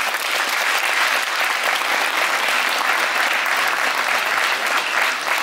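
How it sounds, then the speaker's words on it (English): A large audience claps steadily at the close of a charity performance event honoring hundreds of performers, contributors and volunteers; dense, even applause holds throughout without a break. "Let's give them a round of applause."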